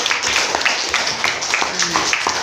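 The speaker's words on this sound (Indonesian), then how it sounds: "beri tepuk tangan buat Pajar dulu" Children in a classroom applaud a classmate named Pajar with scattered, irregular clapping while a few voices chatter over it, filling the whole stretch at a steady, moderate level.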